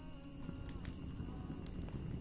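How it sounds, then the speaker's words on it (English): Steady chorus of crickets from the A Soft Murmur ambient sound app, a continuous high chirping drone held at an even level throughout, with no talk over it. "I'm gonna turn up crickets."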